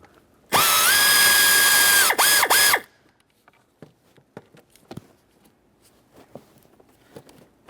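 A power ratchet loosens the HVAC blower motor mounting bolts on a 1994-1997 Honda Accord, a loud sustained whir of about two seconds broken by two short bursts, followed by scattered light clicks and clinks of hardware.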